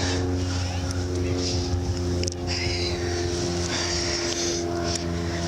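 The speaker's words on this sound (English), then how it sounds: "Maybe I should wait till the airplane goes by." Airplane passing overhead during an outdoor wedding ceremony, a steady droning engine rumble that stays loud and constant throughout, with people talking beneath it.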